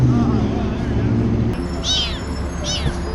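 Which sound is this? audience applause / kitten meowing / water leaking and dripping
kitten meowing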